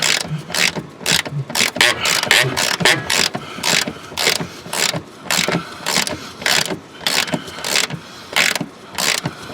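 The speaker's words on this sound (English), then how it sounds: "let me take those out with a ratchet." A ratchet clicks in repeated rapid bursts while bolts heavy with Loctite are loosened on a 2004 Porsche Cayenne, loud and close, with short pauses between strokes and no talking.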